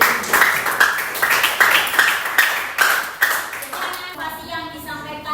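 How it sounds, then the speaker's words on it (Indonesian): A classroom group claps together in a steady, rhythmic pattern of sharp, close hand claps that repeat about every quarter second. The clapping fades out near the end as a faint ringing tone comes in. "Tepuk tangan untuk kita semua."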